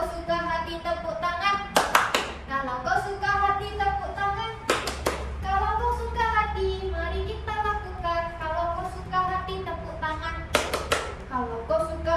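Children clap their hands in sharp bursts along to the Indonesian action song "Kalau Kau Suka Hati" in a fourth-grade classroom, with several claps at three points, each heard over steady group singing.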